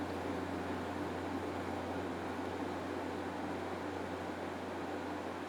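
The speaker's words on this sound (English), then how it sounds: "So he's staring at the air conditioning unit that just turned on." An air conditioning unit gives off a steady broadband whoosh with a low constant hum beneath it, unchanging and continuous throughout.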